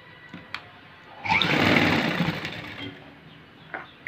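A sewing machine stitching the edge of a blouse runs in one loud, steady burst of about a second and a half, preceded and followed by quiet handling clicks.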